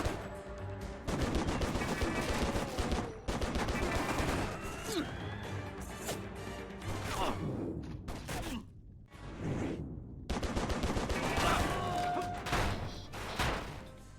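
Repeated bursts of gunfire from the video game Prey (2006), loud and close, come in rapid volleys with whooshes and crashes and a few short gaps, mixed with game sound effects.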